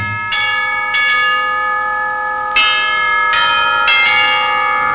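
A wedding bell rings out in a 1950s televised musical show, five clear resonant strikes spaced unevenly, each leaving a long shimmering ring that overlaps the next, loud and close with no talking.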